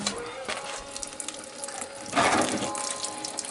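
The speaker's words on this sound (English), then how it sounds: "Is that coolant all going into that pan?" Old coolant drains from the radiator of a 1953 Chevrolet into a pan, a faint trickle that bursts into a louder splashing gush partway through, then settles back to a steady pour.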